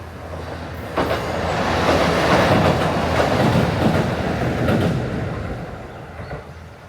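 A train rolls across a high iron railway bridge near Oita, a steady loud rumble with rhythmic clacking and faint wheel squeal that swells and then fades over several seconds.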